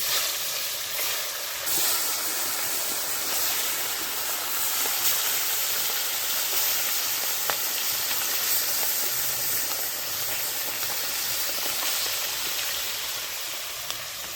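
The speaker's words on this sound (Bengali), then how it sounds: "একদম টাটকা টাটকা তাজা কই মাছ এখন ভেজে নিচ্ছি।" Fresh koi fish frying in hot oil, a dense, steady hiss and sizzle running throughout at close range, with no talking.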